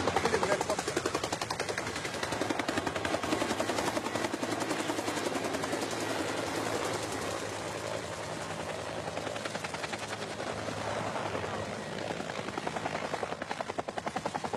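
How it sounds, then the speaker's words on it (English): Military helicopters approaching over the Golan Heights, a steady loud rotor thump and roar filling the whole stretch, with gunfire-like crackle mixed in and voices faintly underneath. "We go quickly because helicopters are now coming."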